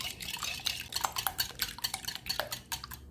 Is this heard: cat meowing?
no